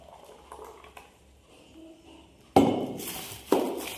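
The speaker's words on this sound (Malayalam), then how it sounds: "ഇനി ഇത് നമ്മൾ ഇതിനകത്തേക്ക് ഒഴിക്കും." Thick set curd is poured from a half-litre cup into a plastic cover, a quiet stretch followed by two loud, close squishy plops and crinkling plastic.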